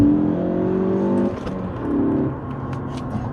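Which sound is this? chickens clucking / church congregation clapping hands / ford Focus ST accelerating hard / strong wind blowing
ford Focus ST accelerating hard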